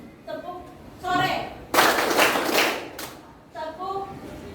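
A junior high class in Cilegon plays a rhythmic clapping game, bursts of clapping and tapping alternating with chanted voices, the loudest stretch a dense flurry of many hands in the middle.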